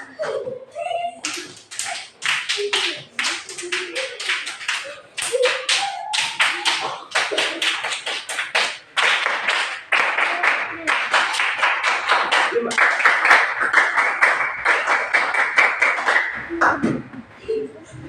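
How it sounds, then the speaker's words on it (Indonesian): A primary school class claps the Tepuk Pancasila rhythm together, rapid patterned bursts of sharp hand claps in quick groups, close and loud, with voices chanting along through most of it. "Coba kita tepuk sama-sama."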